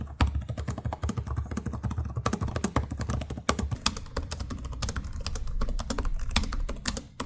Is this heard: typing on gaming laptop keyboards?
yes